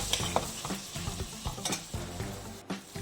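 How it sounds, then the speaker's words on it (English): Tomatoes cook in an oiled pan for palak paneer, giving a soft steady sizzle broken by repeated scrapes and knocks of a spoon stirring against the pan, fairly quiet and close, with no voices. "Now we're going to cook this one till the tomatoes are tender."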